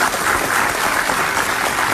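An audience applauds a blind young girl who recites the Quran, steady dense clapping filling the whole moment at close range without a break.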